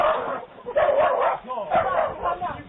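A small dog meeting a man for the first time barks and yaps repeatedly in short bursts on a doorbell camera recording, mixed with voices.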